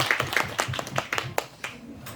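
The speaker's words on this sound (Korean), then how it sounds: "하나님께 영광의 박수 드리겠습니다" A church congregation claps to glorify God at a New Year's Eve service, a loose burst of scattered hand claps that thins out and fades toward the end.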